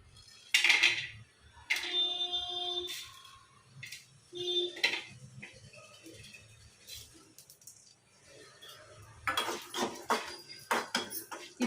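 Peppercorns, cumin, fennel, dried coconut and a few cashews are dry roasted in a pan, with sharp metallic clinks, ringing taps and scraping rattles of a spoon against the pan in bursts and no voices.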